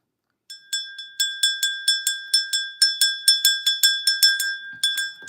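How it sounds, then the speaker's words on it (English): A handheld bell is rung over and over in a quiet room during a tarot reading, giving about fifteen bright, ringing strikes at a steady, quick pace, each one clear and close and left to decay a little before the next. "Let me go ahead and ring this bell."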